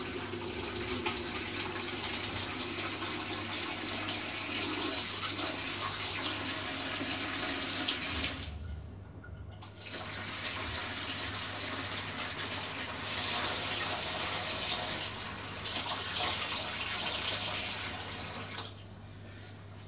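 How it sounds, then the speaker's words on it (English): Cold water runs from a sink tap in a steady, close hiss that stops briefly partway through and then starts again. "I'm right by the sink, so I'm going to run some cold water"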